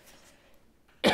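A single short, sharp cough bursts out at the very end after near silence.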